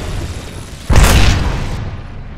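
An Arc Star grenade goes off in Apex Legends as a single sudden booming burst with a crackling electric wash that slowly decays, heard alone over a low background rumble.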